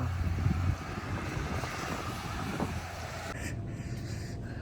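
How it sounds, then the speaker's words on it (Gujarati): Strong cold wind blows outdoors under a cloudy sky, buffeting the microphone with a steady low roar that eases near the end. "પવન બહુ છે ઠંડુ બહુ કોલ્ડ"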